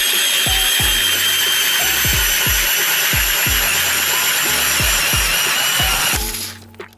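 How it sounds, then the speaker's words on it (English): A lithium 24-volt StrikeMaster cordless ice auger bores holes in lake ice on Lake George, giving a steady high whine punctuated by repeated knocking chunks, then winding down near the end. "I've got my lithium Strike Master 24 volt, and let's drill some holes"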